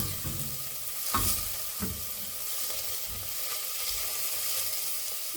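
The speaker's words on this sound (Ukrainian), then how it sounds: "Наша цибулька трошечки почала підсмажуватись." Chopped onion frying in a pan as the base for a creamy salmon soup, a steady close sizzle with occasional stirring scrapes and clinks, no talking.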